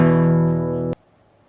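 An E open-position power chord on guitar rings loud and full for nearly a second, then is abruptly muted with a sharp click, leaving near silence.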